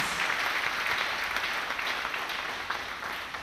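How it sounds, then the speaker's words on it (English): A church congregation claps together, a dense, sustained wash of applause from many hands that holds steady and fades slightly toward the end. "Clap for Lord Jesus Christ."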